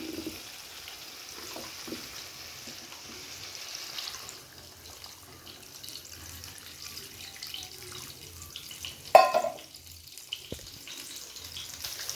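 Water goes into a simmering potato, mango and fish curry in a pot, a quiet wash of faint bubbling and trickling that ends in a short, louder splash near the close, with no talk.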